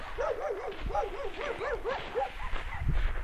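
Several dogs in a snowy village bark and yelp in quick repeated bursts, moderately close, with overlapping calls and a continuous outdoor background hiss; no one speaks.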